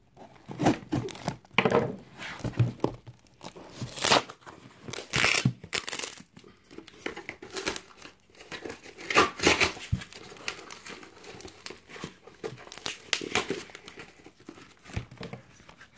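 Tape and packaging on a giveaway box being torn and crinkled open, irregular bursts of ripping and crackling plastic close by, with quiet gaps between pulls and no talking.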